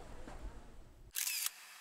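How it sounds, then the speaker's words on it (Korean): A single camera shutter snaps sharply after a moment of quiet ambient noise, a bright, brief mechanical click that stands alone near the end. "셔터를 누르며 가슴 뭉클하다."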